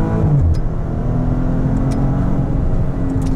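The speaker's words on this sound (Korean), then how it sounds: "이렇게 달려보면 뒤쪽에서 펑펑 하고 배기음 터지는 소리도 들리고요" A Maserati Ghibli S Q4 Gransport's engine revs under hard acceleration in a loud, steady rumble. A few faint exhaust pops sound above it.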